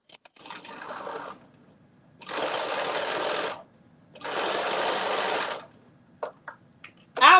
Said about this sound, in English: I'm gonna stitch down the sides a little bit more in the spaces where I knew.